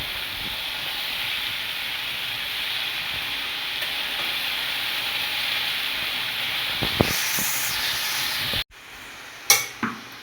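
Red amaranth greens frying in a pan over a low flame, giving a steady close sizzle and hiss, with a few faint stirring clinks near the end.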